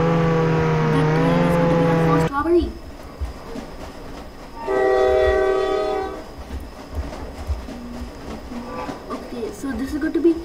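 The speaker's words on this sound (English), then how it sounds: "The train." A train in the video game Jailbreak rolls past, sounding a loud sustained horn blast at the start and again midway, with rumbling and clattering wheels between; a voice talks briefly over it.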